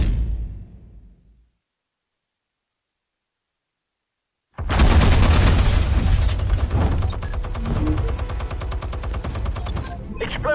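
Gunfire in an animated Batman episode: after a faint fading sound and a few seconds of silence, a loud, sustained volley of rapid shots and blasts erupts and continues densely to the end.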